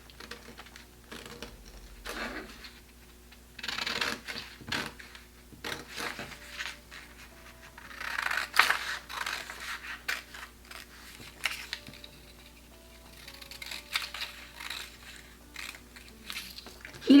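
Scissors snip along the lines of paper dress patterns in short, irregular bursts of crisp cutting sounds, close and fairly quiet, with pauses and paper rustling between cuts.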